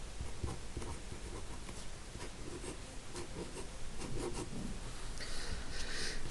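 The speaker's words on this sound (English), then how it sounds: "So I'm going to write those down." Pen writing on paper while working through a trigonometry problem about a triangle, a steady close scratchy rasp running throughout with small bursts of pen strokes and no talk.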